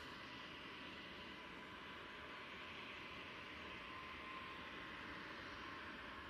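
An EasyJet airliner touches down at Manchester Airport. Its engines give a steady, broad roar heard from a distance that holds evenly throughout.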